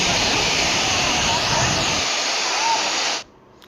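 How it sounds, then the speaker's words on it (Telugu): Loud, steady rushing river water roars continuously, then cuts off abruptly near the end, leaving near silence. "ఈ వాటర్ సౌండ్ అన్నిటి చాలా బాగుంటుందండి"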